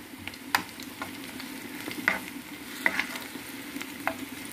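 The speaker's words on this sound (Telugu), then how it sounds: "పోపు దినుసులు అయితే వేసుకోండి మీరు." Tempering spices fry in hot oil for cucumber dal, a soft steady sizzle punctuated by several sharp spoon-stirring clicks and taps against the pan, close and alone with no voices.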